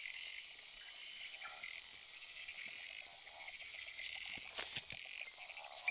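Frogs call in a tropical jungle at night, forming a dense, continuous high-pitched chorus of trills and chirps. It sounds fairly faint and distant, with a few brief louder clicks near the end.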